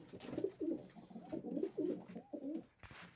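A pair of sport pigeons coo softly and repeatedly nearby, a series of low, rounded throaty calls with a few faint clicks and rustles between them.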